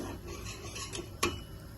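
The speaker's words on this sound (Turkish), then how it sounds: "Krema pişene kadar karıştıra karıştıra pişireceğim arkadaşlar." Cream custard stirred in a pot on the stove gives soft, steady scraping and swishing, with one sharper metallic clink of the utensil against the pot.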